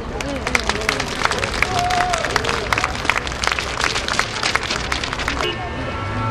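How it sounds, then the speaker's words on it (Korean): Sustained applause from a crowd at an organization's launch ceremony, dense overlapping claps with a murmur of voices underneath, steady throughout before easing slightly near the end. "우리 다 같이 서로 박수 한번 주세요"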